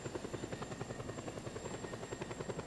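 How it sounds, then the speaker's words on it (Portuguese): A helicopter's rotor thumps in a fast, steady rhythm in a video game, faint and continuous, with no voices. "tá dando barulho de helicóptero"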